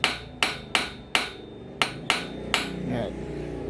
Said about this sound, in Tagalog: pukpukin nyo muna.